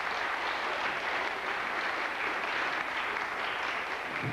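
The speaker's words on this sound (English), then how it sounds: "Give him another big round of applause." Dense, steady applause from a concert audience at a memorial concert of Irish traditional music, many hands clapping together in a continuous wash that holds at an even loudness throughout.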